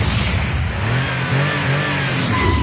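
A 2006 Mercedes-Benz SLK 55 AMG with its 355-horsepower V8 revs loudly and steadily from inside the small roadster, the engine note rising slightly over a few seconds.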